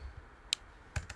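A computer keyboard gives a few quick, crisp keystrokes close by, three or four distinct clicks in a quiet room.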